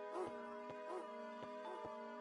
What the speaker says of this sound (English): Why is there a dog barking?